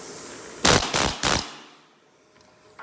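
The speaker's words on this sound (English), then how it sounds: "then I punch it through with the air chisel right here." Three loud, close bursts of rapid hammering from an air chisel punching rivets through the steel frame of a Chevy K20 squarebody truck, each burst brief and separated by short pauses, then a quiet workshop.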